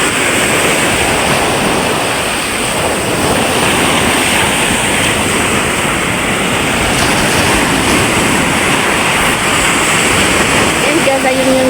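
Seashore water current rushing in steadily, a loud continuous wash of surf and flowing water with wind buffeting the microphone, unbroken for the whole stretch.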